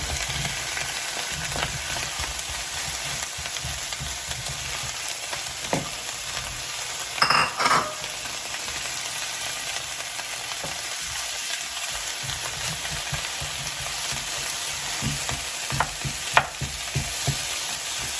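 Zucchini and onions fry in olive oil, a steady soft sizzle with occasional stirring clacks from a utensil against the pan, fairly quiet and close with no talking.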